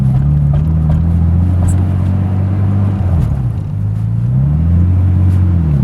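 A 1997 Nissan Skyline R33 GTS-T with the RB25DET engine revs under acceleration, giving a loud, close engine drone whose pitch rises, dips at a gear change, then climbs again.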